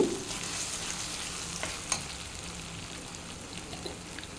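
Soft, cooked-down tomato masala for an aloo capsicum kadai curry fries in a pan, a steady gentle sizzle with an occasional small tap or bubble pop, close and moderately quiet, no talking.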